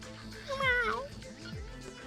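A cat named Zippers meows once, clear and nearby, with a person talking over and around the sound.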